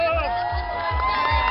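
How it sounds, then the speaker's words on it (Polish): An outdoor crowd at a Kashubian village festival cheers and shouts for the winning team, with rhythmic chanting and whoops mixed with voices and children's calls, fairly close and lively. "Brawa dla zwycięskiej drużyny!"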